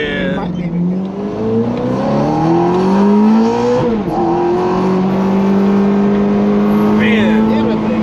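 A Ferrari F430 Coupe engine revs hard from inside the car during a ride, a loud sustained roar whose pitch climbs, drops briefly and rises again. Voices talk over it.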